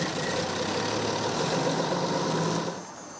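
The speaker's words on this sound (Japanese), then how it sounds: "一般のディーゼルエンジンと音の大きさを比べてみると" A diesel city bus engine idling, a steady low rumble with broadband vibration heard close, running alone without talk and dropping off slightly at the end.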